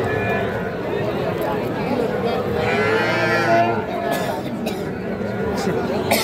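A Sahiwal bull calf at a busy cattle market gives a drawn-out moo amid constant crowd chatter and voices nearby.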